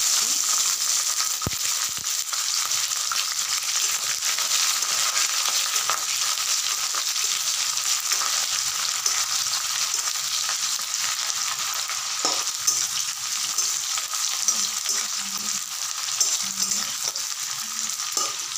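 Chopped onions fry in hot oil tempered with nigella seeds and two dried red chilies for a small-fish chachchori, giving off a continuous close sizzle with occasional light stirring knocks and no talking.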